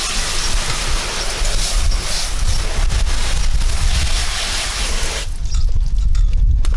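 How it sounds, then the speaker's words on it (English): A garden hose sprays water across a car to rinse off bug remover, a steady broad hiss of splashing water on the body and headlight that continues throughout, close and fairly loud. "Let's just go ahead and hose it off."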